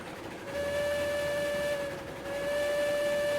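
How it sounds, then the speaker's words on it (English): A steam locomotive whistle sounds a long steady tone over a hissing, chuffing mountain steam train in the railway game Railroads Online, dipping briefly before resuming. "Mountain train."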